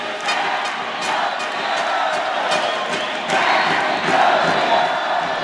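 Crowd of supporters cheering and shouting loudly and steadily after a men's futsal win at an indoor regional games final, with whoops and a dense roar throughout.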